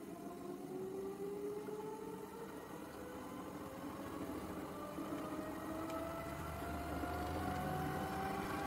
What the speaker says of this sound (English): DC motor's power is on